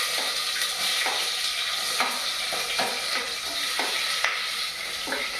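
Onions and curry leaves sizzle loudly in a hot pan for mutton biryani, a dense steady hiss broken by regular scraping stirs about every second, close and without talking.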